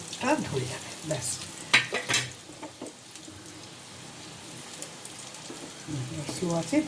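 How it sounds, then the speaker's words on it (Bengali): Dhoka lentil cakes frying slowly in a pan, a soft sizzle with stirring clinks and brief scraping, a voice talking over the start and end. "স্লো আছে, ভাজতে শুরু করেছি"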